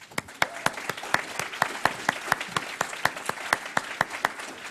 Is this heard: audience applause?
yes